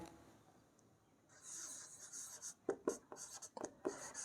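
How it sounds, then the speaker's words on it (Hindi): Pen writing a line on paper during a handwritten maths lesson, heard as faint scratchy strokes, then a run of short, crisp scribbles near the microphone with no talking. "तो यहाँ लिखते हैं एक लाइन"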